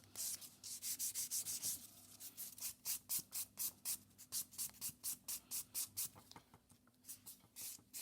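A buffer file rubs back and forth over an acrylic nail in steady, rapid strokes, close up and continuous, with no talking.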